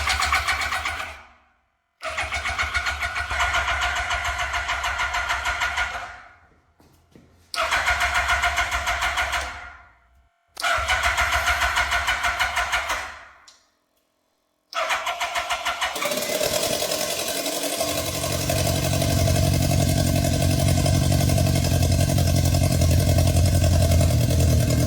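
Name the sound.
scrap Yamaha R1 motorcycle engine starting and idling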